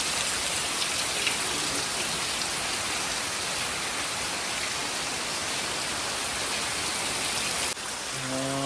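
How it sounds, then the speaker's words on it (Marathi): Heavy, continuous monsoon rain pouring down in Kankavli, Konkan, loud and close; near the end the rain drops in level and a faint tonal sound appears. "आता मस्त असा पाऊस चालू झाला आहे"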